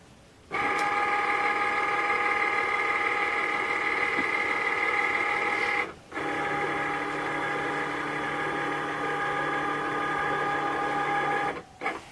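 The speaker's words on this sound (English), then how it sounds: "So now when I load that into my Cricut and I press the button" A Cricut cutting machine running a print then cut job hums steadily up close, a continuous whirring drone with two brief pauses as the carriage changes direction.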